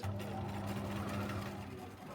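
A sewing machine stitches a neckline-armhole facing in one steady, close motor hum with a fast needle rhythm, running alone for about two seconds.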